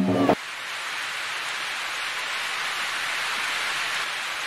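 Heavy monsoon rain pours down steadily in a village, a dense continuous hiss close and loud throughout after a brief tonal sound at the start.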